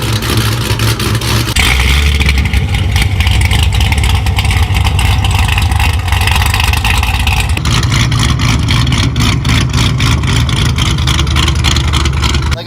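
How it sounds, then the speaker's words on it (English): A Shelby Cobra V8 with a performance cam and exhaust revs hard and holds high, a loud, continuous raspy roar with choppy lumpy idle character that shifts pitch twice as the throttle changes. "I think that Cobras sound amazing. That's my favorite car sound"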